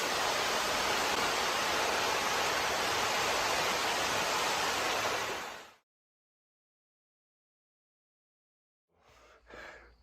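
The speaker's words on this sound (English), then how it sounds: "check out that waterfall." A waterfall at Toccoa pours as a loud, even roar of broadband rushing water for about six seconds, then cuts to silence, followed near the end by a couple of soft breathy sounds.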